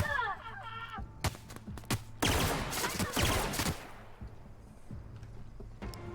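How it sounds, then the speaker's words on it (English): Laser pistol shots in the video game The Outer Worlds: a rapid cluster of bright zapping blasts, plus a few isolated shots, over a low game ambience. "I did not realise it was a pew pew laser pistol."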